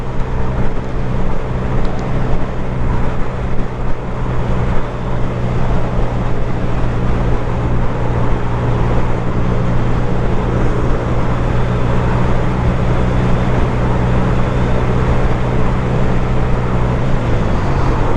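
A 2022 or newer Honda Grom motorcycle at top speed, a loud, steady engine drone with heavy wind rush, holding an even pitch throughout with a slight shift near the end, no speech.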